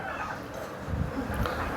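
Soft, scattered gobbling and clucking from turkeys on a farm nearby, low and murmuring over a short stretch.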